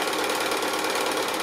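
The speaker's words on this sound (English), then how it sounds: "Just stitching on the drawn line" A sewing machine stitches fabric along a drawn line for a flower-and-leaf quilt project made from 2 1/2-inch strips, a steady rapid mechanical whir, close and uninterrupted.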